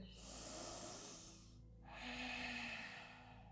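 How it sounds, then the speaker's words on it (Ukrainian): A person doing a morning yoga session on a mat takes two soft, airy breaths in a row. Both are quiet, close and hissy, with a brief pause between them and no talk. "Ще вдих."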